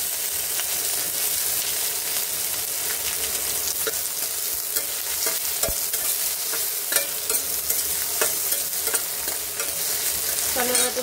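Onion, green chili and tomato frying in a pan while being stirred, a continuous close sizzle broken by scraping spatula strokes and small clacks.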